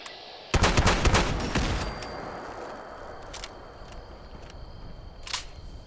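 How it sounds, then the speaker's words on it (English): Vehicles blowing up in Fallout 76 at Garrahan Mining Headquarters: one sudden loud blast followed by a burst of crackling, popping debris that fades into a steady hum, then a few sharper bangs near the end. "Yeah, exploding vehicles"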